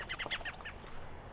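Outdoors on a foggy morning, a bird gives a quick burst of several nasal, duck-like quacking calls, close and fairly loud, then fades into quiet ambient air with no talking.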